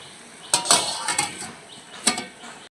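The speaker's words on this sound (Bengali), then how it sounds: "এবার আমি ঢাকা দিয়ে দেবো।" A lid set onto a pot of cooking mustard chicken, a few close metallic clanks and clinks with a soft background hiss, no talk.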